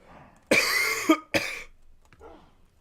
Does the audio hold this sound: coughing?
yes